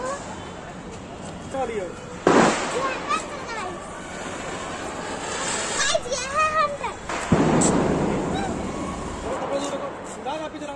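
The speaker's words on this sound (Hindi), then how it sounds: "ये है डिस्को पटाखा।" Two loud bursting cracks a few seconds apart from a Diwali disco firecracker, each followed by crackling and sizzling, with voices and crowd chatter throughout.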